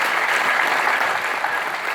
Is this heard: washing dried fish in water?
no